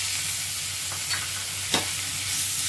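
Beetroot hits hot oil tempered with cumin, green chillies and curry leaves, giving a steady close sizzle with a couple of soft stirring scrapes.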